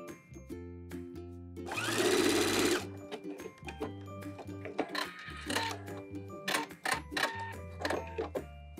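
A sewing machine stitches a sleeve onto an upcycled vintage T-shirt with a puff sleeve, running in short bursts and pauses over several seconds, close and fairly quiet with no voices.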